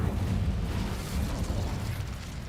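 An Incendio fire spell in the game Hogwarts Legacy whooshes and crackles as a dense, roaring burst, loud and sustained for a couple of seconds before easing slightly.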